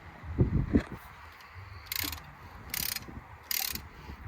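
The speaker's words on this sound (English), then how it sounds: "So let me ratchet back the piston here." A ratchet pushes back the front brake caliper piston on a Ford Focus MK2 1.6 TDCI, giving three separate bursts of quick clicking with a few low knocks before them, close up and fairly quiet.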